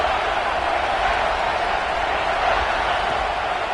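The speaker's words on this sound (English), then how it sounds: "Man, this crowd really affecting the football game." A stadium crowd roars continuously in a college football video game between SMU and South Carolina, a dense, steady wash of cheering noise with no breaks.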